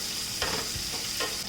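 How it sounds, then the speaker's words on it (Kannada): One medium onion, cut into slices, fries in a pan with a soft, steady sizzle, broken by two brief scraping stirs. "ಈರುಳ್ಳಿ ಹಸಿ ವಾಸನೆ ಹೋಗೋವರೆಗೂ ಫ್ರೈ ಮಾಡ್ಕೊಳ್ಳೋಣ."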